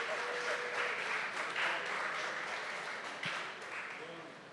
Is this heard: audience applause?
yes